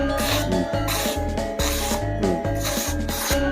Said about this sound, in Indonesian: Seperti ini, tinggal di setroping, insya Allah semakin halus.